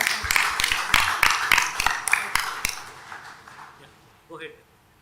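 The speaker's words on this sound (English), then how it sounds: "Round of applause." A startup festival audience gives a round of applause at an investor event, clapping loud and in steady unison beats for about two and a half seconds before it dies away. A brief voice follows in the quiet.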